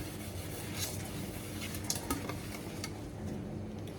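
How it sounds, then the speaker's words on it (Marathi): A plate is washed by hand at home, giving a steady, close wash of water and scrubbing noise with faint clinks of dishware. No one speaks. "तो प्लेट धुतोय जरा"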